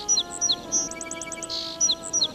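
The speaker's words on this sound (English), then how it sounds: "See, even the sparrow is saying thank you." Animated sparrow chirping, a quick series of bright, high, short tweets and a fast trill, close and clear over a faint musical hum, with no voices.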